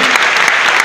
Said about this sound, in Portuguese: Toma lá, uma salva de palmas.